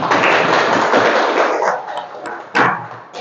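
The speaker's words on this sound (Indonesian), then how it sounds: "Tepuk tangan dulu." Students in a classroom clap their hands together in a burst of loud, close applause that tapers off, followed by a few scattered claps and one final sharp group clap.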